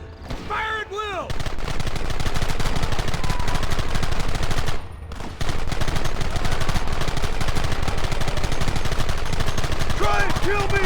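Sustained gunfire from a Red Dead Redemption shootout, dense rapid shots filling the whole stretch with a short lull midway, loud and continuous, with whistling bird-like calls and brief voices near the start and end.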